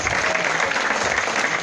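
An audience at a hypnosis show claps in a steady, dense burst of applause, loud and close, with no voices over it.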